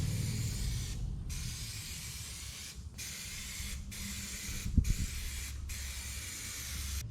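A rattle can sprays paint onto the body of a 1963 IH Loadstar truck in long, close, steady hissing passes, each broken by short pauses between strokes.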